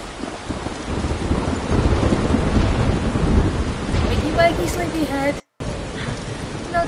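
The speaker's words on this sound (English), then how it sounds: "I'm trapped in a storm?" Thunderstorm in the video game Life is Strange: a broad rumbling wash of rain and thunder fills the clip, loud and steady, with some tonal game sounds near the end and a brief cut to silence.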